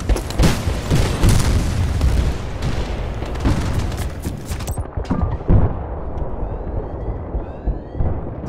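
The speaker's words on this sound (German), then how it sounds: "Sag mal, wer ballert denn da die ganze Zeit? Ach hier, oh, der scheiß Panzer" Heavy booming cannon blasts from a tank in Battlefield: Bad Company 2, a dense run of loud, close shots and explosions over continuous battle noise that thins out near the end.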